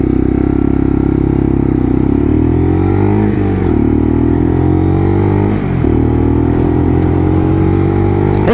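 A Lexmoto LXR SE motorcycle engine on a ride test, a loud steady drone that rises and falls with gear changes and revs, close and continuous with wind rush and no talking.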